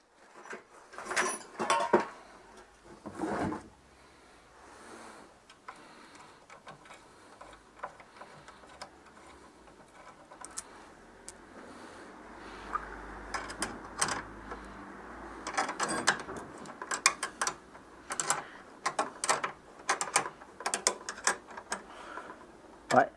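A wrench removes screws from the headlight support of a Citroën 2CV, giving bursts of quick metallic ratcheting clicks, close and intermittent, with quiet background noise between them.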